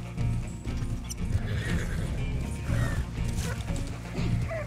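A ridden horse in the video game Red Dead Online gallops with a steady hoof rhythm, snorting and an occasional short whinny over a continuous outdoor rumble.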